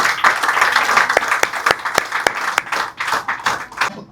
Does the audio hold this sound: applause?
yes